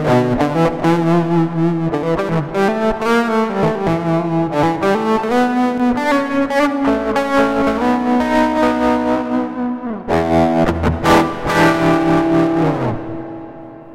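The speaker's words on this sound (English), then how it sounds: "you can add some distortion or tremolo" Electric guitar played directly into an audio interface through a distortion effect in Band-in-a-Box software, a sustained melodic line of gritty, saturated chords and notes, loud and alone, ringing out with a short pause before a final phrase fades.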